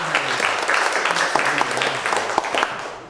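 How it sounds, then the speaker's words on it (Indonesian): A church congregation claps steadily, dense continuous applause filling the room at a fairly loud level with no break. "Tepuk tangan yang meriah sekali."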